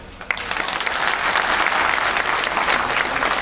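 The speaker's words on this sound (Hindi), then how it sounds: "एक ताली भाई कपिल मिश्रा के लिए बजाओ" A crowd at a political felicitation event for a chief minister bursts into applause for Kapil Mishra, starting with a single sharp clap and swelling into steady, dense clapping that continues evenly.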